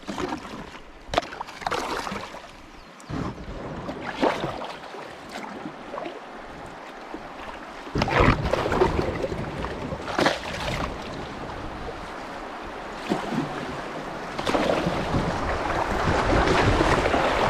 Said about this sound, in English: looks like some good rapids coming right here